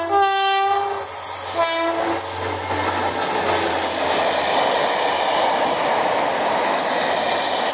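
A Colas Rail test train hauled by Class 73 locomotives sounds its horn in two loud blasts, then rumbles past close by with a steady roar and rattle of wheels.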